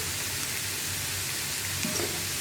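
Onions with prawn curry masala sautéing in a pan, a soft continuous sizzle close by with a faint stir near the end.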